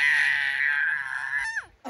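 A voice imitating a bird call, made while playing with branches and rocks: a sustained, harsh, raspy cry that ends in a quick downward-sliding squawk, close and loud.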